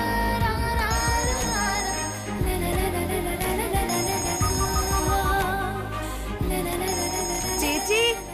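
A telephone rings in a Malayalam TV drama, its bell tone coming in three repeated bursts of about a second each over steady background music.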